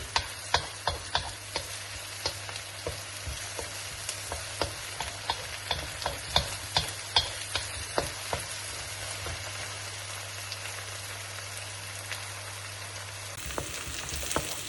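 Onions browning in a frying pan for Punjabi-style paneer bhurji give a steady, close sizzle, while a spoon stirs in a quick, regular rhythm of scraping knocks against the pan for the whole stretch, with no voices.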